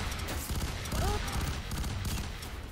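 Assault rifle burst fire in F.E.A.R. 3, rapid crackling gunfire running continuously through a busy, noisy battle mix, with a brief whistling tone in the middle.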